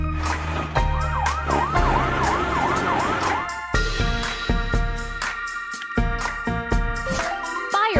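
A cartoonish fire truck siren wails in rising and falling loops in a children's building video game, mixed with jingly game music and sound effects.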